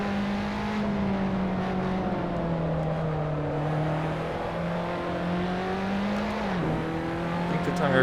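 In the Assetto Corsa racing game, race car tires squeal steadily and loudly over a continuous engine drone, the pitch wavering slightly as the car slides through corners, with no voices.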